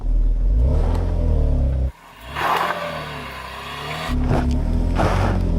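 An SUV engine revs loudly while climbing an off-road slope, a near, strained roar that drops away suddenly, builds back up gradually and surges again at the end.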